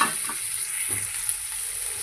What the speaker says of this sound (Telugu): ఇవి మంచిగా ఫ్రై చేయాలి.